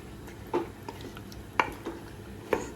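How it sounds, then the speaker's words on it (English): Mutton stirred into a pot of crackling spices: three or four distinct scraping clinks of a utensil against the pot, spaced about a second apart, over a soft background sizzle. "So the mutton is in. Let's mix it now."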